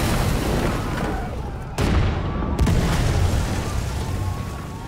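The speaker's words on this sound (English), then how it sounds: "Everything's blowing up." Explosions in Far Cry 5 fill the scene with loud, continuous rumbling blasts and a couple of sharp booms, dense and close.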